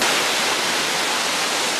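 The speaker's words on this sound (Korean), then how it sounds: "폭포가 대단하네요." A waterfall in a deep canyon roars as a steady, dense wash of rushing water, loud and unbroken throughout.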